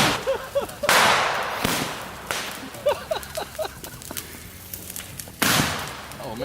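Fireworks set off with gasoline burst in several sharp cracks and whip-like bangs at moderate distance, with crackling and popping between the blasts outdoors.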